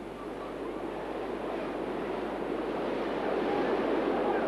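Raging whitewater river on a canoe slalom course, a constant broad roar of rushing water that swells slightly louder toward the end, heard close with no talk.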